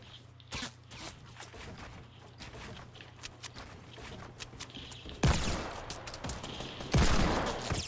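Gunfire rings out at a player in a shooter video game: scattered single shots at first, then two loud, close bursts of rapid fire near the end, over faint background ambience.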